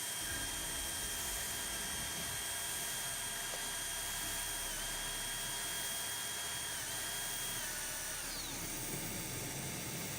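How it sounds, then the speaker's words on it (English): A drill works on glass in a glassblowing studio making candy ornaments, a faint, steady high-pitched whine with slight pitch shifts and a glide near the end, heard alone over low room hum. "No more drill noises."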